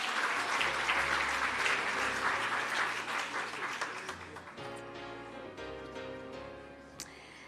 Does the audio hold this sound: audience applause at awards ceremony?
yes